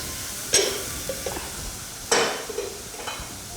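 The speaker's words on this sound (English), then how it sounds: "now I'm going to let these onions become brown" Onions frying to brown in a pan for a maharagwe bean dish, with a gentle steady sizzle and two sharper scrapes of a spoon stirring, close and fairly quiet with no talking.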